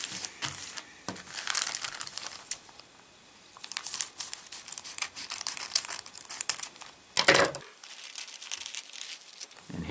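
Plastic packaging around an iPod Touch case is cut and pulled open, producing close, busy crinkling and crackling with sharp snips and tearing bursts, and a loud crackle near the end.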